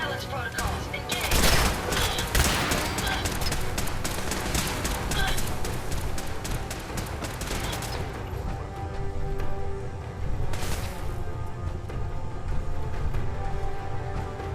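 Gunfire in the video game Fallout 4, a rapid burst of repeated shots followed by a steady loud din and a later short burst, dense and close.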